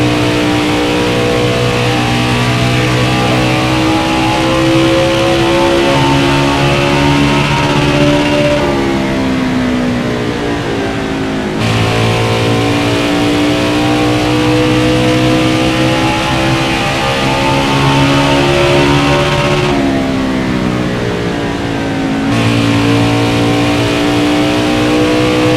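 A NASCAR Xfinity race car at Iowa in the NASCAR Heat 5 video game, its engine revving loud and steady through a lap, pitch rising and dropping as it shifts and slows for corners.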